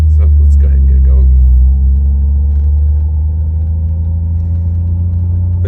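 A car creeps slowly across a parking lot, its smooth engine a steady low rumble with faint road noise and no revving, close and continuous throughout.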